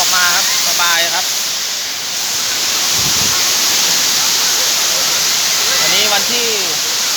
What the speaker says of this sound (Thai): น้ำตกสวยงามเนี่ยโอ้โหเลิศเลยน้ำตกสวยมากเลย